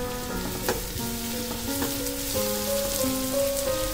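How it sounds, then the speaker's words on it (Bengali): Vegetables for an egg and flattened-rice snack fry in an uncovered pan, a close, continuous crackling sizzle with light stirring throughout. "আমি সবজিগুলোকে ভেজে নেব, তবে ভাজবো আমি ঢাকা দিয়ে।"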